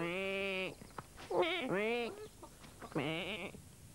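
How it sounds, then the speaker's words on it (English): Farm animals bleat in a lively string of long, wavering baaing calls, three main bursts with short gaps, loud and close, with a lower mooing tone beneath the first. "mooing and baaing and quacking and clucking, they all set to work on their farm"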